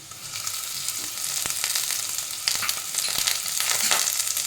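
Ginger garlic paste frying in a pan, a steady close hiss of sizzling that swells toward the end, broken by a few sharp clicks of a spoon scraping the pan.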